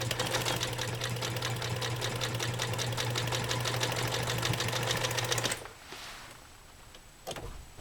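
A 1944 Free Westinghouse sewing machine runs steadily through burlap and cotton polyester, a fast, even mechanical stitching rhythm close by for about five seconds before stopping, followed by a few quieter handling clicks.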